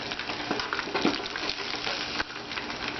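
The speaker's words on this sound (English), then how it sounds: "let her finish frying them up" Coconut shrimp frying in hot oil give off a steady, dense sizzle with crackling pops close by, holding an even level throughout with a few brief louder spits and no voices.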